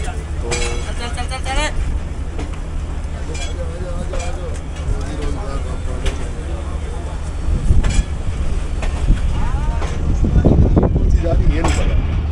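A ZCU30-6308 diesel locomotive rumbles and chugs steadily on a run between Khanewal and Lahore, a loud, continuous engine drone with clanking, while people talk over it throughout.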